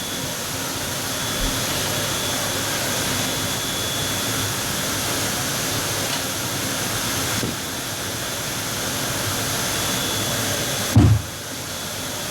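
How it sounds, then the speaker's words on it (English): A wrap-around case packaging machine, a BluePrint Automation Wrap Around 100, whirs steadily in a loud, constant mechanical drone as it repositions during changeover, with a brief thump near the end. "I've got to take all this off so the machine can reposition itself."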